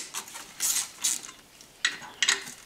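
Two 8mm bolts are undone from the fuel filter bracket of a Ford Focus 1.8 TDCi. Several short, close metallic ratcheting bursts come in quick clusters with brief pauses between.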